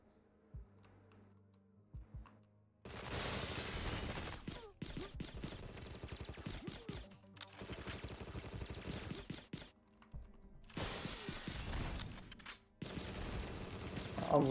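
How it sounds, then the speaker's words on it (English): Rapid bursts of gunfire from a GoldenEye-like first-person shooter video game, several long loud fusillades separated by short gaps, with a few quiet clicks at the start. "Come on, shoot the barrel first."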